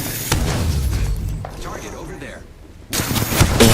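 Gunfire from Apex Legends, including a charge rifle, comes as loud bursts and rattles, fades into quieter game sounds, then bursts loudly again near the end.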